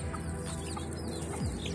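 Domestic village chickens being raised on a farm in Khun Han, Sisaket, fed rice and food scraps, cluck softly and intermittently against a steady background hum, with no talking.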